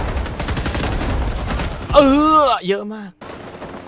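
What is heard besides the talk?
gunfire in a Vietnam War shooter video game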